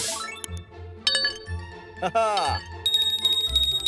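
A cartoon bell rings with bright, sustained metallic tones in the upper range, layered among other quick comic effects and clinks over a few seconds.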